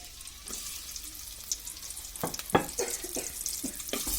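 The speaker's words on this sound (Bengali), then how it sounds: "এখন আমি যে পেঁয়াজ কুচিগুলো আছে সেটা দিয়ে দিচ্ছি।" Chopped onions go into hot oil in a pan while cabbage bhaji is being cooked, giving a steady close sizzle with a few sharper crackles and the scrape of a spoon stirring.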